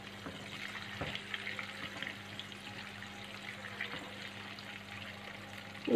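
Potato snacks frying in hot oil until golden brown, a steady soft sizzle and bubbling held at an even level throughout, with faint clinks near the end.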